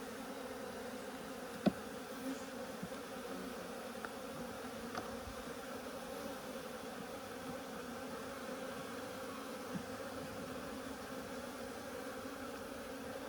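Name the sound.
honeybees buzzing at an opened hive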